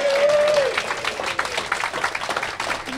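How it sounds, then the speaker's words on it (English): Audience applause for award winners at a robot combat event: a crowd claps steadily and then tapers into scattered claps, while a tone sounds briefly at the start. "Can we have another big round of applause for all of the award winners, please?"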